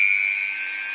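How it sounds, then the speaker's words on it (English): A high-torque power drill runs in a steady, loud whine while drilling holes, holding one continuous pitch for the whole second with no talk over it. "So we're taking a high torque device and we're going to drill a few holes"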